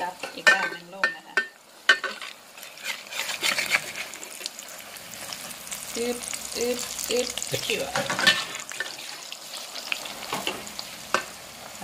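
Thai crispy omelette sizzling and frying in a pan as it is flipped, a continuous crackling hiss with scraping and clattering utensil knocks, close and fairly quiet, while someone talks over it.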